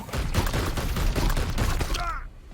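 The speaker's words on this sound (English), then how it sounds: "We just shoot you normally with the side cannon." A side cannon fires in Warhammer 40k: Chaos Gate, a rapid, loud burst of repeated blasts filling most of the moment before it cuts off, with a brief voice at the end.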